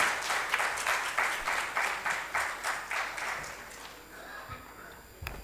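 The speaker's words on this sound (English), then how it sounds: "A huge round of applause for our guest of honor, Minister of Industries, Amaranath Garu." An audience claps at a business conclave, a rhythmic pulsing applause that swells and then fades to quiet, ending with a brief knock.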